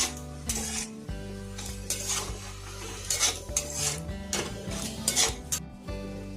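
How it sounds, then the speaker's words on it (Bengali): Cress greens being stirred with salt and turmeric in a pan, for a dish fried with crabs: a spoon scrapes and clinks against metal in irregular close bursts over a low steady hum, with no talking. "নুন হলুদটা আমি শাকের সঙ্গে মিশিয়ে নেব"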